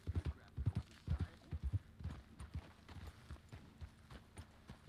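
Horse hooves clip-clop steadily in Red Dead Redemption 2, a close, even trotting rhythm that loosens and fades slightly toward the end, with no one speaking over it.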